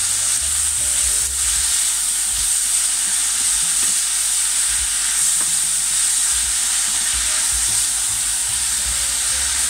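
Leeks and onions crackle and sizzle steadily as they fry in a pan, a continuous bright hiss with small pops and occasional stirring, close and fairly loud, with no voices.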